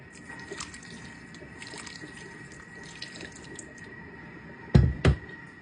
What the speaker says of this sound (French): Alors ici, pour notre couscous, on va mettre de l'eau.